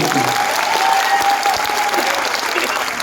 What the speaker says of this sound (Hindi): एक बार जोरदार तालियां नहीं मिल सकती